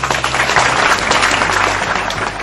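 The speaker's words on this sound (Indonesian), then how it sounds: "Sekarang tepuk tangan untuk terakhir Pak Muzamil ya" Loud, dense applause from an audience at a religious talk, honoring Pak Muzamil, continuous and close for the whole stretch.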